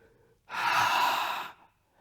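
A single long, breathy exhale during a Pilates exercise, rising sharply and holding steady for about a second before fading, close and clear with no talk over it.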